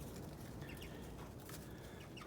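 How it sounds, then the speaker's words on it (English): Faint clucking from a rooster amid a low, steady background hum; soft, scattered calls rather than crowing. "That's our newest rooster."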